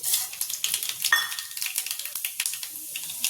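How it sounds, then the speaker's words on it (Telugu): Cumin and mustard seeds sizzle in hot oil for a tempering, giving close, quiet, rapid crackling and spitting pops that continue steadily for a few seconds. "ఆయిల్ వేడి కాగానే జీలకర్ర, ఆవాలు వేసేసి"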